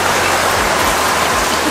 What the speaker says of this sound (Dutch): het regent zo hard